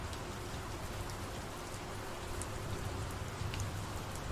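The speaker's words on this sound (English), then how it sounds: "things get gradually wetter the more it rains" Steady, even rainfall in a video game weather environment where surfaces grow wetter and puddles form, a dense continuous patter with no voices.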